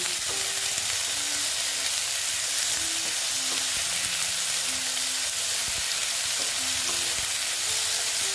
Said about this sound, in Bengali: দিয়ে আলুটা ভেজে নিচ্ছি